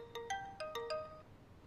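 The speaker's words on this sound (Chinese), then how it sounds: "我接个电话。" A mobile phone ringtone plays alone in a quiet room, a short melodic sequence of five or six bright chiming notes with ringing overtones, fairly close and clear, with no one speaking over it.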